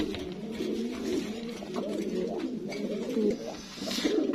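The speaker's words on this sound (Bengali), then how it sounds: "এখানে এক পেয়ার আমি লাল ম্যাকপাই দেখতে পাচ্ছি" A pair of red magpie pigeons coo in repeated low, rolling phrases, fairly close and steady, with a faint chirp near the end.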